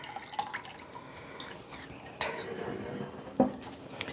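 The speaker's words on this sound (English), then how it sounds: "I have my little funnel, and I will start decanting it." Homemade strawberry vinegar drips through a small funnel as it is decanted: a few sparse, distinct liquid drips that are quiet and close, separated by pauses.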